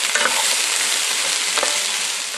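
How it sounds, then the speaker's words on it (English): Onions and jalapeño sweat in a pan for soup with a soft, steady sizzle, and light stirring scrapes come through close by. "We got a little swizzle it around and, kind of sweat those onions out."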